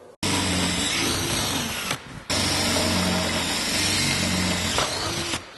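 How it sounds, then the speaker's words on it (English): A power drill runs loudly and steadily, stops briefly, then whirs again for several more seconds, drilling center-punched holes with long bits while installing a roll cage on a Jeep JK. "We're going to use a center punch to go ahead and mark these holes and drill them."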